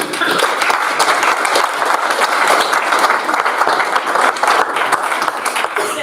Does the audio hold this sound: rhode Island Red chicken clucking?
no